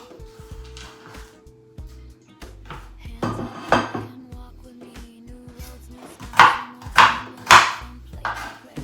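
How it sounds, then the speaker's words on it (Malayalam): Cabbage being cut with a knife on a board in a Kerala home kitchen, a series of knocks and crisp chops that grow louder toward the end, with pot and utensil clatter. "ക്യാബേജ് ഒന്ന് കട്ട് ചെയ്തിട്ടൊരു പാത്രത്തിലേക്ക് ഇട്ട് കൊടുക്കാം."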